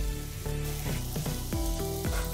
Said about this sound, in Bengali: গরম জলটা দিয়ে দিচ্ছি।